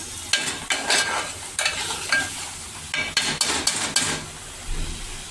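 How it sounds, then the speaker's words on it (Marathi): Spiced masala paste frying in oil in a pan, with a continuous sizzle broken by repeated scraping, knocking strokes of a spoon stirring it, close and fairly loud with no talking. "फ्राय करते. बघा मसाला कसा असा मस्त फुटलाय, असा तेल सुटायला लागले."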